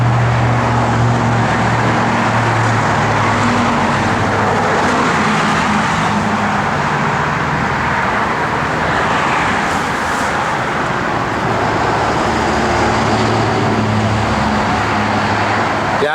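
A 1970 Chevrolet C10 pickup with polyurethane bushings drives down the road, a steady low engine drone and continuous road and tire rumble heard from inside the cab with no talking.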